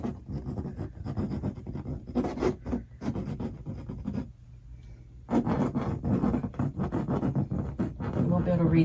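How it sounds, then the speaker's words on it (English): A charcoal pencil scratches across an abstract painting in quick, rhythmic strokes, close and clear, stopping for about a second midway before the scribbling resumes. "I do have some charcoal on a pencil"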